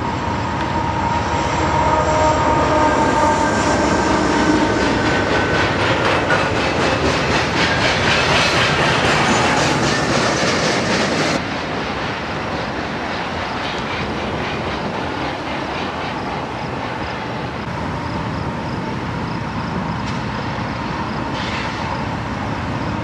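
A passing train trailed by an ex-Burlington Northern blue caboose on a large equipment move in Minneapolis rumbles loud and steady, with wheel clatter over the rails, then eases slightly softer as the tail end goes by.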